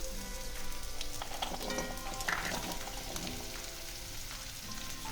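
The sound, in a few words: drumsticks and potatoes frying in pan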